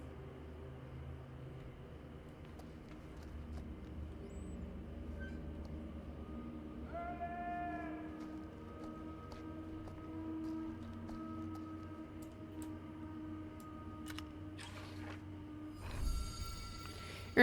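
In the video game The Casting of Frank Stone, a train rumbles past at a distance with a steady low drone, a brief horn-like tone partway through and clanking toward the end.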